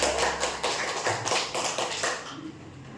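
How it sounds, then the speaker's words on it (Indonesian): Audience applause at a seminar for newly appointed contract teachers in Surakarta, a steady patter of many hands clapping at once, fairly close and continuous, then thinning out toward the end. "kita beri aplaus Bapak Ibu"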